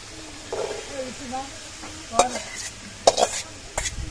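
Potatoes for a singara filling fry and get stirred in a pan at home, giving a soft sizzle broken by several sharp scraping stirs, with a voice talking briefly.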